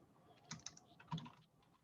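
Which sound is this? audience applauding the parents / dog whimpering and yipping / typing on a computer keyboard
typing on a computer keyboard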